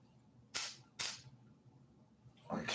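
Spray can misting paint onto a miniature: two short, sharp bursts about half a second apart, then a quiet gap and a softer, longer hiss at the end, close and distinct.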